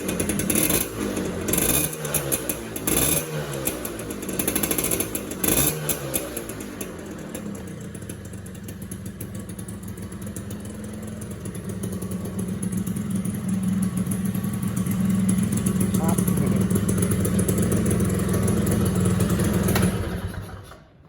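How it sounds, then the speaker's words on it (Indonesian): A two-stroke Suzuki Satria motorcycle with stock exhaust sputters at idle, with a few quick revving bursts early on, then settles into a steady, buzzy idle nearby. "kita dengerin suara gederannya si knalpot standar"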